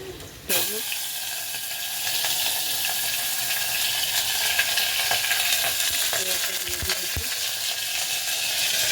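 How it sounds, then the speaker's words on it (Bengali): Meat frying in a pan while being stirred, a loud continuous sizzle with occasional scraping knocks of the spoon against the pan. "মাংসটা কষাতে দিয়ে দিয়েছি"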